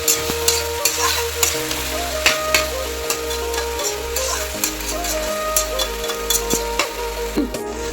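Local chicken meat sizzling and frying in a pan with spices while being stirred, steady frying hiss with repeated scraping strokes of the spoon, close and continuous.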